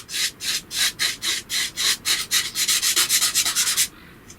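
Foam packaging sponge rubbed over pastel on paper to blend a sky, a close rhythmic scrubbing of quick back-and-forth strokes that speed up toward the end before stopping.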